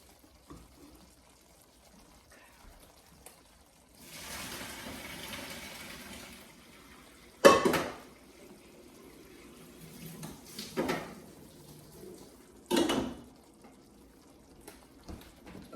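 Water runs into a kitchen sink while pasta is drained, a steady broadband rush for a couple of seconds followed by several short, louder splashing bursts. There is no talking.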